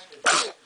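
A single short, sharp baby sneeze bursts out, brief and close, with quiet room sound before and after.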